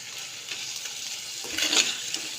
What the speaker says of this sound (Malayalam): ഇങ്ങനെ അരപ്പൊന്ന് നന്നായിട്ട് ഇളക്കി അരപ്പൊക്കെ ഒന്ന് പിടിച്ച് വരട്ടെ